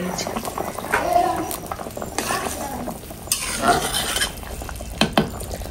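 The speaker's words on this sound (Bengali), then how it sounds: "তো এই যে এখন হচ্ছে মাছটা দিয়ে দেওয়া হচ্ছে" Fish slid into a hot pan for a home-cooked curry, frying with an uneven sizzle and occasional clatter of utensils and pots, with voices speaking over it at close range.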